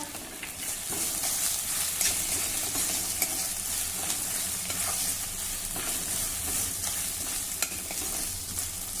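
Green chili and ginger paste with asafoetida sautés in a pan, a steady close sizzle with light, regular scrapes and taps from the spatula, no talking.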